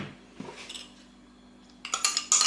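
A utensil stirring blended and chopped strawberries mixed with gelatin for strawberry tiramisu, with soft scraping and then a run of bright clinks of metal against the bowl, quiet and close.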